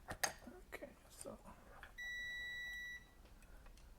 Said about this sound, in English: beeping is just my silly Chinese meter saying, hey, I'm going to turn myself off now.